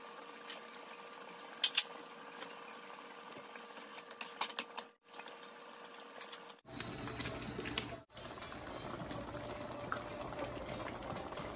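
Lasagna noodles boil in a pot of water, giving a steady bubbling hiss. The sound cuts out briefly and then returns louder and rougher, with a few faint clicks over it.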